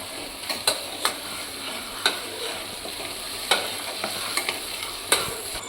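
Steady sizzle of thick pav bhaji gravy cooking in a pan, with a spoon scraping and stirring every second or so; no voices.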